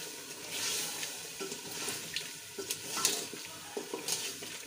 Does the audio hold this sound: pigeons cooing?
no